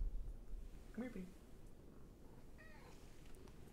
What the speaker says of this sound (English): guys hear him purring?